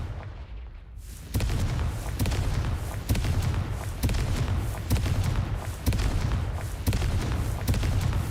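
Confringo fire spell from the game Hogwarts Legacy going off, a loud burst that sets off a dense, sustained roar of crackling blasts with repeated sharp pops recurring roughly every second.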